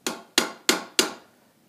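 Four sharp, ringing hammer blows land evenly on the hot steel edge of a slitting chisel at a blacksmith's anvil, close and loud, each strike decaying briefly before the next.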